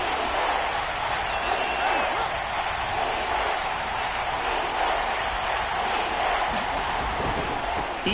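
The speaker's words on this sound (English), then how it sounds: "The crowd here in the Dome making things difficult." Crowd noise fills a domed football stadium in an American football video game, a steady dense roar of many voices at an even level throughout, with commentary talk over it.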